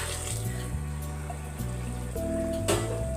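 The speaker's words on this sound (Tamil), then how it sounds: "இப்போ வந்து தண்ணி சேர்த்துக்கலாம் ஒரு கப்பு ரைஸுக்கு ஒரு கப்பு தண்ணி நல்லா சூடாக" Hot water pours steadily into a pot of chicken biryani, a continuous close splashing and trickling flow that shifts in tone as the pot fills, with no speech over it.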